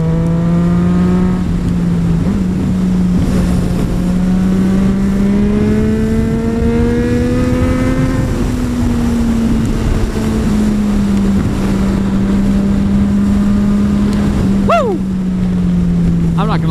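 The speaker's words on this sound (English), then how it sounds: "I'll just want to hear it with the baffle out. And it's just so loud." A Yamaha FZ09 motorcycle with a Black Widow full exhaust and the baffle removed revs loud and close, a steady raw drone that rises and falls in pitch without a break, with wind noise over it.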